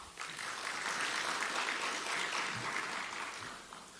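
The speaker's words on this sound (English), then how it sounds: "if you give them an applause" Steady audience applause at an official remarks event for the Strengthening Digital Community project, a dense wash of many hands clapping at moderate level for about four seconds before easing off slightly at the end.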